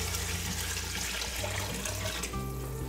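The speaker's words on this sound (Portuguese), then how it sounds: "Cobrimos com a água." Water poured into a pot of vegetable soup with ground beef, a steady, continuous rush of liquid running for about three seconds with no talking over it.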